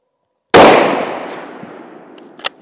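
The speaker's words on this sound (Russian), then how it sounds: "И делаем еще один выстрел." One loud rifle shot cracks close by, its boom rolling off into a long fading echo, followed by a faint metallic click.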